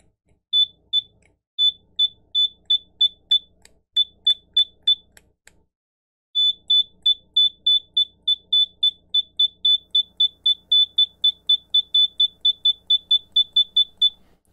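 Kaiweets HT200B clamp meter beeping on a continuity test, a run of short, high electronic beeps in quick, slightly uneven succession, a pause, then a longer steady burst of rapid beeps, close and clean.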